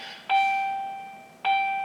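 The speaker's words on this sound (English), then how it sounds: "Did you hear the bells go off when I said that?" Two clear electronic bell chimes ring out, one at the start and a second about a second later, each with a bright tone that slowly fades, heard alone without talk.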